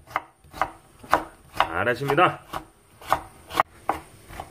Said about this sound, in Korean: 당근은 어떻게 잘게 쓰시는 건가요?